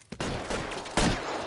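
Gunfire in LA Noire rings out as a rapid, close fusillade of sharp shots over a second and a half, with a louder burst near the end.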